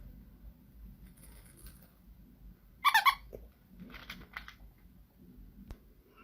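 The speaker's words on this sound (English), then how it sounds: "It has crunchy ears, squeaky hands, and feet that rattle." A crocheted sensory bunny toy with crunchy ears, squeaky hands and rattling feet is handled, giving faint soft rustles around a sharp burst of squeaks and a few light crinkly rattles.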